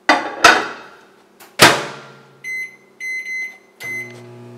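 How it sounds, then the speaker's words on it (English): Sharp door clunks and a latch click, then a microwave oven steaming cauliflower beeps in three short electronic tone bursts, close and clear. "place it in your microwave for about 8 minutes."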